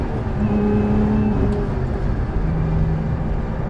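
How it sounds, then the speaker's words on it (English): A Lotus Emira sports car drives along a road, its engine holding a steady, close droning hum with a faint whine above it, alone and without talk. "driving the Lotus Emira on our section of roads"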